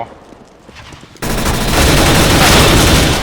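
Rapid automatic gunfire in Counter-Strike: Global Offensive bursts in after a quieter opening with someone talking, then continues as a loud, sustained volley to the end.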